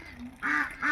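Ducks let out of a net enclosure give two quick, loud nasal quacks close by.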